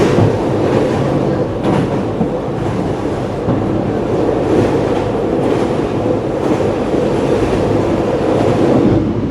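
A Gaya Baru Malam economy passenger train, a modified car, rolls along with a loud, continuous rumbling roar of wheels on track and faint rhythmic clatter, heard from inside the carriage with no talking.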